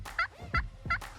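A wild turkey gobbling in an open timbered flat, three quick loud rattling gobbles in even succession, close and clear against a quiet background.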